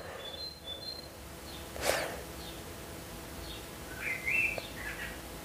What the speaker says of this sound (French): peut-être que vous entendez les oiseaux qui chantent pendant que je fais la séance